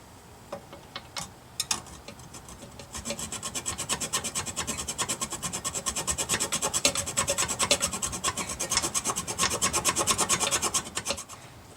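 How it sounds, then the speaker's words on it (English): Excess bolt ends poking up under a gun safe's mounting plate in a car are cut off, giving close, steady rapid rasping strokes that build up after a few scattered scrapes. "Now I'm just going to cut off the excess bolt that sticks up through the bottom of the plate on each nut."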